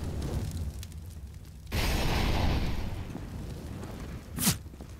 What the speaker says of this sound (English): JDM getting taken down by a nade by half HP.